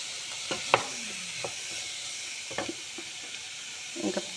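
Carrot, onion and cabbage momo stuffing sizzles steadily in a pan, a constant close hiss broken by occasional scraping stirs and light clinks, with no voices.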